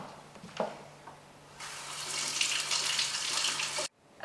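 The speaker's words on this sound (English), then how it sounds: "we're going to give that a quick rinse." Tap water runs to rinse fresh scallops, first a few faint knocks and then a loud, steady rush that stops abruptly.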